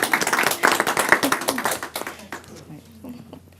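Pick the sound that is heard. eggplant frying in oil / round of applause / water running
round of applause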